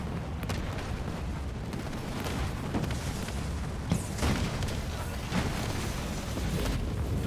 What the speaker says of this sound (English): their nukes seem to be making a small difference